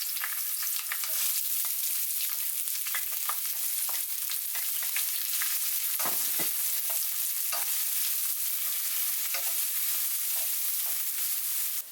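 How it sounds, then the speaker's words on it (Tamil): Small shallots frying for mutton chukka give a loud, continuous crackling sizzle, with bursts of spattering and occasional stirring scrapes. It stays close and dense throughout, and no voices are heard. "சேர்த்துட்டு இந்த சின்ன வெங்காயம் கொஞ்சம் ப்ரௌன் ஆகிறது வரைக்கும் அதை லைட்டாக வதக்கிக்கோங்க."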